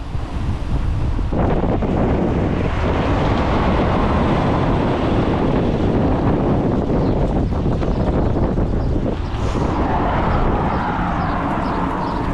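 Strong headwind buffets the microphone during a bikepacking ride, giving loud continuous rumbling gusts that roar steadily through the whole stretch, with no voices.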